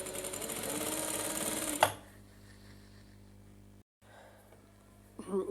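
A sewing machine runs steadily while stitching a trouser, a close, busy whirring that stops abruptly early on, leaving a low hum and occasional faint handling noises.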